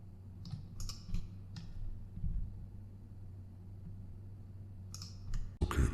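A computer mouse is clicked during 3D modeling in Blender, with a few sparse, sharp clicks, some in quick pairs, over a quiet low room hum.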